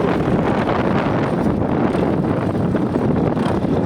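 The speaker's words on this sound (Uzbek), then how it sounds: "Shamol. Shamol. Shamol." Steady wind rushes and buffets the microphone outdoors, a dense, continuous roar with no voices and only slight fluctuations over a few seconds.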